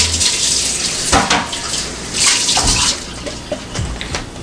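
Tap water splashing and running in a sink while a tray from a Dash Rapid Egg Cooker is rinsed out, close and fairly loud with irregular splashes and clatters.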